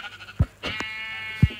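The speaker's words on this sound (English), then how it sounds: "I found a sheep." A Minecraft sheep lets out a clear bleat lasting about a second, preceded by a couple of soft thuds and followed by another thump, loud and close.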